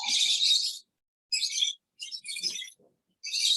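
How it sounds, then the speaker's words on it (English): Small birds chirp in short bright bursts separated by silent gaps, clear and fairly close, with no talking. "Little birds."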